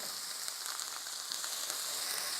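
Pressed garlic sizzles in a hot pan, a steady faint crackling fry with small pops throughout and no talk.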